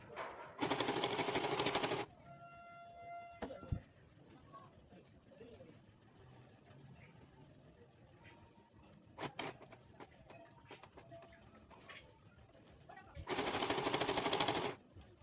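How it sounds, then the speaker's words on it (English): A sewing machine stitching a hijab runs in two loud, steady bursts at the start and end, with quieter rustling, handling and a few sharp knocks in between. "So basically I'm just still sewing on it."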